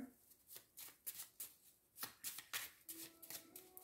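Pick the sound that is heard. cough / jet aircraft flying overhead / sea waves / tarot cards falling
tarot cards falling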